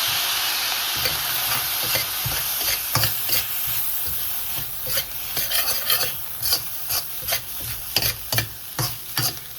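Fried rice with soy sauce stirred around a hot pan, a steady sizzle broken by scraping spatula strokes that grow into a quick, rhythmic series of scrapes toward the end, close and clear with no talking.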